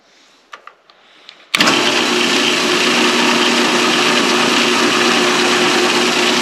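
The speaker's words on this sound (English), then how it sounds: "we're going to drill a 5/64 hole through the edge so that the string has a way to pass through" A power drill boring a 5/64-inch hole through the edge of a wooden cigar box ukulele bridge. After a few light handling taps, the drill starts abruptly and runs as a loud, steady close whine to the end.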